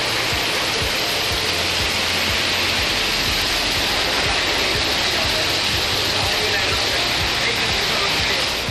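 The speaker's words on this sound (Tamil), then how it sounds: "காற்றுடன் கனமழை பொழிந்ததால் குளிர்ச்சியான சூழல்" Heavy rain driven by wind pours down around Sriperumbudur in Tamil Nadu, a loud, dense, unbroken roar of rainfall with no break.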